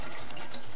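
Tap water running steadily over chickpeas being rinsed for hummus in a kitchen sink, a continuous close splashing wash with no talking.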